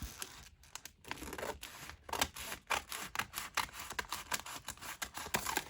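Scissors snipping through a paper roll to cut it into smaller sections, quiet irregular crisp cuts and rustles close by in a quiet room.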